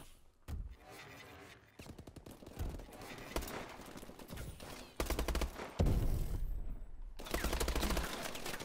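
Video game gunfire arrives in rapid automatic bursts and overlapping shots, loud and dense, with short pauses between volleys.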